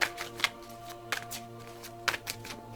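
Tarot cards being shuffled and pulled during a reading, several crisp riffling bursts and soft flicks spread over a few seconds, close and fairly quiet, with no talking.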